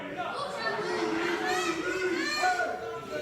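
A wrestling gala crowd reacts with disapproval, a steady wash of murmuring voices and chatter that swells slightly midway and holds at a moderate level throughout.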